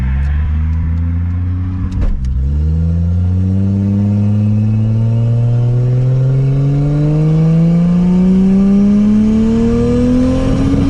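Turbo Lexus IS300 with a TH400 transmission accelerating, a loud close engine note rising steadily in pitch after a brief dip, strong and continuous with no talk.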